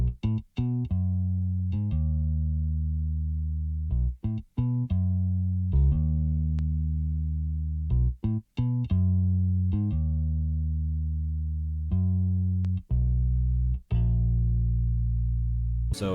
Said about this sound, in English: on top of that, I added the moto bass too.